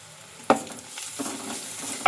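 Onions, chili, grated carrot and curry leaves stirred in a frying pan, with a steady sizzle and a few sharp scrapes of the spoon at intervals. No talking.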